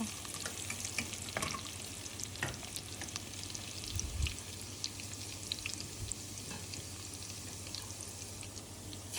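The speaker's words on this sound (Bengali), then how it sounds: "তেলটা গরম হওয়ার পর আমি দিয়ে দিলাম রসুন" Garlic sizzling and frying in hot oil in a pot for a Sylheti tomato tenga, a steady crackle with occasional stirring scrapes throughout.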